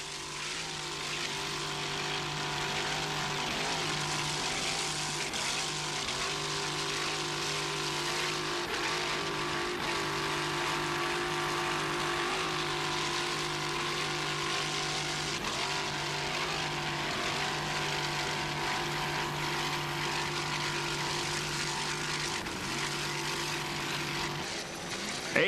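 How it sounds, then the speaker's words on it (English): A racing powerboat's T-Custom Marine inboard engine drones steadily at high revs for a long stretch during an offshore race, loud and continuous with a buzzing, throaty tone and little variation. "Let's listen to that engine there, that Wizard of Oz T-Custom Marine inboard."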